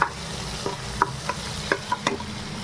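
Garlic frying in hot oil for a tempering, a close, steady sizzle punctuated by several sharp spatula taps and scrapes as it is stirred.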